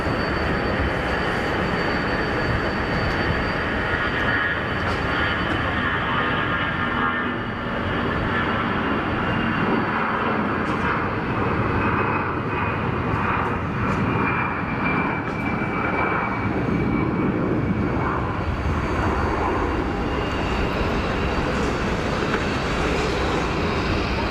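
Airbus A320 jet engines at full takeoff power, a loud, continuous growling roar with a rising whine, sustained close by throughout.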